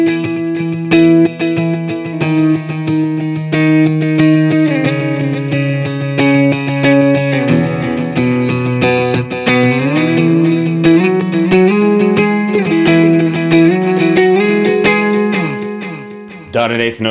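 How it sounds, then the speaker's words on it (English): An electric guitar runs through a Line 6 POD HD500x set to a dotted-eighth digital delay, playing a shifting run of sustained notes and chords with distortion and chorus, the repeats echoing behind it, loud and up close. "And it's a dotted 8th note delay."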